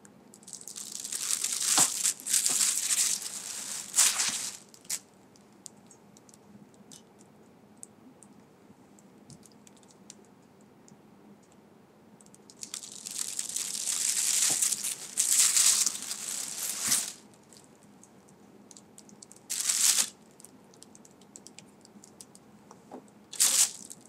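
Bars of corona and lime cold process soap are sliced with a cutter: two long stretches of crisp clicking and crunching cuts separated by quieter pauses, plus a few short isolated cuts, close and fairly loud with no talking.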